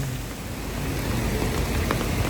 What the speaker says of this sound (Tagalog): Pero still continuous pa rin yung buhos ng ulan